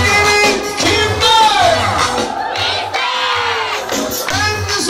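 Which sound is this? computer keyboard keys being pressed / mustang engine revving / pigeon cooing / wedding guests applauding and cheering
wedding guests applauding and cheering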